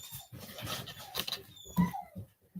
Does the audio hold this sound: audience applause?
no